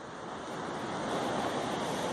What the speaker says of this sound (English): That's the Pacific Ocean.